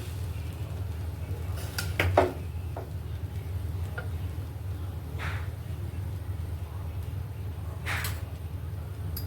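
Fried rice is turned over in a pan, with a few scattered scrapes and clinks of a spoon against metal over a low steady background hum, the stirring sounds sparse and moderate in loudness.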